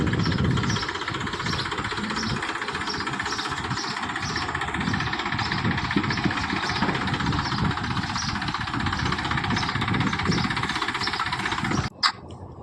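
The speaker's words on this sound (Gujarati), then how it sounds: "ટ્રેક્ટર આવવા દઈએ છીએ પાછું" A steady, loud engine drone runs throughout with a low rumble and mechanical clatter, ending in a brief sharp knock near the close.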